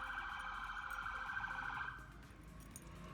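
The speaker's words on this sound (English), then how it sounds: "it's just sirens" Emergency vehicle sirens wail steadily at a distance, a sustained tone that drops away partway through and gives way to quieter background hum, with no talk over it.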